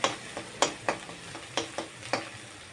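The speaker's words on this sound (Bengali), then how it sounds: "মশলাটা কিন্তু ভাজা হয়ে গেছে, দেখেছো তেল কিন্তু ছেড়ে দিয়েছে।" Spice paste fries in oil for a Bengali katla fish kalia, the pan giving a series of sharp, separate sizzling pops and stirring scrapes at an irregular pace, close and moderately loud, with no talk.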